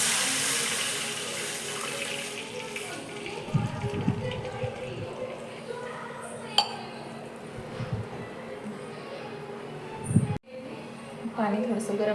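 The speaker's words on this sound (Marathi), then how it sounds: "आता त्याच्यामध्ये आपण 1 ग्लास पाणी टाकूया." A glass of water is poured into a pan of ghee-roasted semolina while making sweet sheera, giving a steady splashing and gurgling pour with a few clinks of utensils, close and fairly loud.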